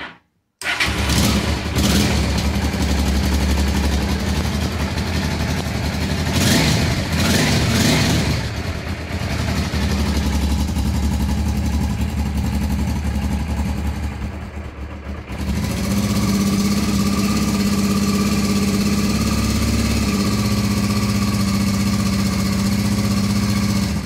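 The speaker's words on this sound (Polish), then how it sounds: "obrotem już chodzi, pali na oba cylindry" A Honda Transalp motorcycle engine with a repaired ignition module, unstarted for a while, cranks briefly and fires up on both cylinders, then settles into a steady, loud, close idle with a brief dip midway.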